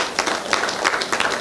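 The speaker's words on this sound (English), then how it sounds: "Give her a warm round of applause." Audience applause at a medical product launch event, a short burst of many hands clapping with a dense, steady texture throughout.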